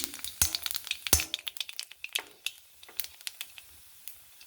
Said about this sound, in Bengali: কড়াতে তেল বসিয়ে দিয়েছি তো এবার এতে ফোড়নটা দিয়ে দিচ্ছি কালো জিরে আর শুকনো লঙ্কার ফোড়ন দিয়ে দিচ্ছি